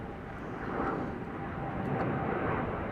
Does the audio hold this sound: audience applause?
no